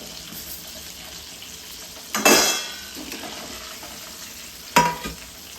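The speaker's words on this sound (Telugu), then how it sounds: "ఇవి కూడా మంచిగా ఫ్రై అయిపోయినాయి చూసారు కదా మంచి కలర్ వచ్చేసింది" Chicken pieces deep-frying in hot oil for homemade KFC-style chicken, a steady low sizzle broken by two louder bursts of bubbling and clatter as pieces are stirred or lifted out, close by with no voices.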